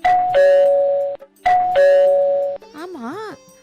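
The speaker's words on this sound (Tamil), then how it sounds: "நீயே ஒரு தடவை காலிங் பெல் அடி" A doorbell in a Tamil stage drama rings twice, each a clear two-tone ding-dong, followed by a short burst of talk.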